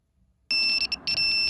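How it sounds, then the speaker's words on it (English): IoT smart keychain buzzer sounding loud and steady after a short silence, a piercing electronic tone with two brief dropouts, close and alone. "As you can see, the buzzer sound."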